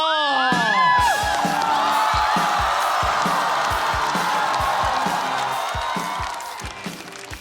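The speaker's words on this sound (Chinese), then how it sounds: "掌声有请徐指导" A studio audience at a stand-up comedy show breaks into loud, sustained applause and cheering with whoops, while a synth stinger and thumping music play over it before the clapping fades near the end.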